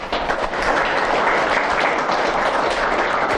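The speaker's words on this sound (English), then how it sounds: "So let us clap for all these masters" An audience clapping together during a talk on dying, a dense and steady burst of many hands close by, continuous for a few seconds with no voices.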